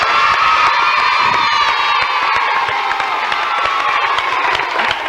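A TV studio audience applauds and cheers loudly together, with children's shouts and whoops over dense, continuous clapping.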